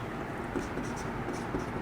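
Chalk or marker strokes scraping across a classroom board during a Class 12 physics lesson on electromagnetic induction, a steady scratchy texture running throughout with a faint voice murmuring underneath.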